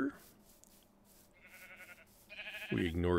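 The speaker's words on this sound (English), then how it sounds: "We ignore the sheep." Sheep in the TerraFirmaCraft Minecraft game bleat in short synthetic bursts, with a loud bleat closing the clip after quieter game noise.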